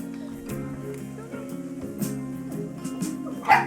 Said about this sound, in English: They're starting to bark.